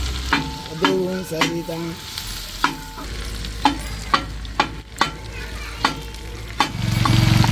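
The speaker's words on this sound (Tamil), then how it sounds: "வெண்ணெய் கரைஞ்ச ஒன்றுமேனா மீல் மேக்கரை அதில் போட்டு வறுத்துக்கிறோம்" Soya chunks frying in melted butter in a pan, stirred with sharp, regular scraping strokes over a continuous sizzle, close up, with a brief spoken remark.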